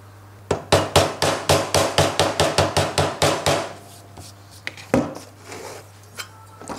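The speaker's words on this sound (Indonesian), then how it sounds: "Perlu sedikit bantuan palu." Close metal strikes from a hammer tapping a blade onto the arbor of a Bosch GTS 10 J table saw: a quick, even run of about fifteen ringing taps, then a pause and a few scattered knocks over a low steady hum.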